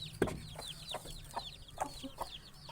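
Chickens and newly hatched Aseel chicks cluck and peep in a hot yard, a steady chatter of short high chirps with a few louder clucks near the start, moderately faint and without voices.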